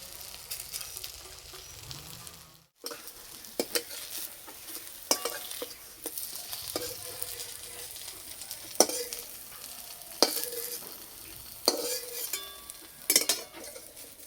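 Cabbage fritters frying in hot oil, a steady close sizzle with scattered sharp pops and crackles, plus a brief stir or utensil scrape near the start and no talking.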